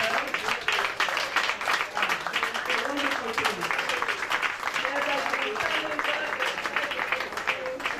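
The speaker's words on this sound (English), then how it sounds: "Please, stand and applaud her." Steady audience applause fills a hall at a one-day private schools summit, loud and continuous clapping from a large seated crowd with a few voices mixed in.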